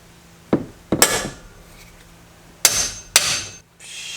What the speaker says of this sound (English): let's see if I can hammer it out